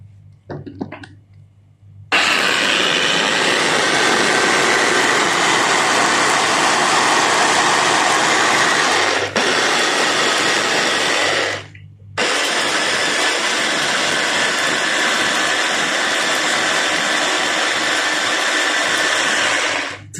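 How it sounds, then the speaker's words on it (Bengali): A kitchen blender whirs loudly and steadily, blending milk, dates and chickpeas. It starts abruptly, runs continuously, and dips briefly twice before carrying on. "বাস এখন ব্লেন্ডার করে পেলাম"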